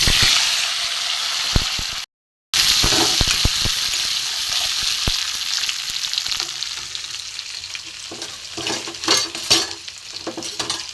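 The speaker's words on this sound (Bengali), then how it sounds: "এখানে আমি গোটা জিরে দিয়ে দিলাম এখানে সেদ্ধ করা আলু কাঁটা রয়েছে আমি এতে দিয়ে দেবো" Whole cumin seeds and chopped boiled potatoes fry in hot oil in a pan, a loud close sizzle that fades briefly and returns, broken by scraping stirs and clatter toward the end.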